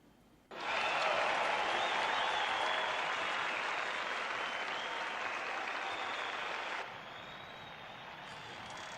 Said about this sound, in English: The crowd is hype.